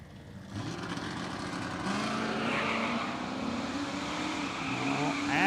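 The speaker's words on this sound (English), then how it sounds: "Abbott, the retired man here in the 70 Plymouth Roadrunner, 520 cubic inch stroker." A 1970 Plymouth Roadrunner with a 520 cubic inch stroker engine races at a street drag event, a distant engine roar rising in pitch and building in loudness as the car accelerates, with no talk over it.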